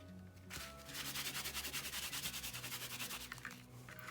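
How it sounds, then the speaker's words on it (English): A baby wipe rubs rhythmically over embossed, inked cardstock in a stamping craft, a close rapid series of scratchy back-and-forth strokes, steady and fairly loud, with no talking. "you can take a baby wipe, just rehydrate that ink a little bit"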